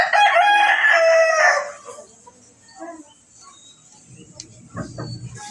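A rooster crows loudly and close by at the start, then fades into softer clucking and scattered barnyard noise from a group of chickens on a farm.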